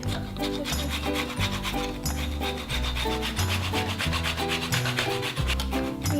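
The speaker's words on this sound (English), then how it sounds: "So you really just want to get the very yellow parts of the zest." Lemon zest is grated in quick, repeated rasping strokes, close and continuous, over background music.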